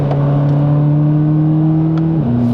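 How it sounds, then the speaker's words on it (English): A Chevrolet Corvette C8 Z06 on a race track holds a loud, steady high engine note from inside the car, then drops sharply in pitch near the end as it shifts gear. "The way the engine revs,"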